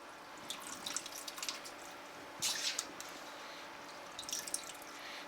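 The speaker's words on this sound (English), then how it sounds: "we're going to take this pasta out of the boiling water here" Cooked pasta lifted out of boiling water in a kitchen, with wet splashes and drips falling back into the pot in a few short bursts over a quiet background hum, no talking.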